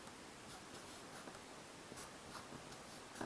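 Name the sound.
writing on a board during a lecture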